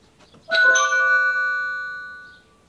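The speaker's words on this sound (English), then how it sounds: "the Chime Box needs to make a doorbell sound, and the speaker on the Chime Box is 95 decibels" An Aqara Chime Box doorbell plays a bright electronic chime ringtone through its 95-decibel speaker: one clear ringing tone that rises quickly and then slowly fades, heard on its own against near silence.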